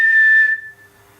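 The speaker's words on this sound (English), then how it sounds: "Like a really, really faint like whistle," A low, thin whistle holds a steady pitch for about a second, strong at first and then fading, heard alone in a quiet old theatre auditorium.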